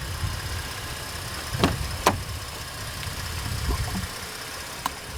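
The engine of a 2020 Nissan Frontier idles with a steady low rumble and faint hum throughout, a couple of sharp clicks or knocks breaking over it, no talk.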